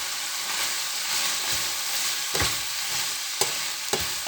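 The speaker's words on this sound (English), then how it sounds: "and we stir it." Vegetables and mushroom stir-fried with oyster sauce and vegetarian stir-fry sauce, a steady close sizzle broken by a few sharp scraping clacks of the spatula against the pan, no talking.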